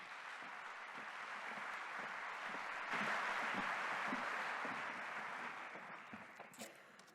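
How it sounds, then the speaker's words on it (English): An audience applauds to welcome speakers opening a startup workshop event, with dense clapping that builds, holds steady, then tapers off near the end as a few voices emerge. "Please welcome them with an applause."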